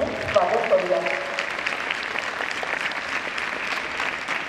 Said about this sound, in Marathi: बाईंचंही आपण जोरदार टाळ्या वाजवून प्रशालेमध्ये स्वागत करूया